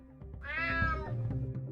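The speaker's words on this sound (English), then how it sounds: "Damn cat." A cat in the video game UnMetal lets out a single drawn-out meow that rises and falls, heard clearly over steady low game background music.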